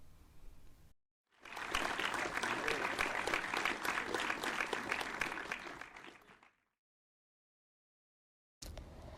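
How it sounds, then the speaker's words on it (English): During a podcast recording, an audience breaks into a round of applause that rises quickly, holds steady for about five seconds, then stops, with brief bits of room sound before and after. "Let's give a round of applause for Ismael."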